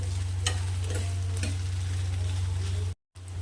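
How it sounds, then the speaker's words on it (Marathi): Okra sizzles as it fries in a pan on the stove, with a few scraping stirs over a steady low hum. The sizzling is close and continuous, with one brief dropout near the end. "मी पर परतत होते आत्तापर्यंत दोन ते तीन मिनिट परतून घेतलेली आहे"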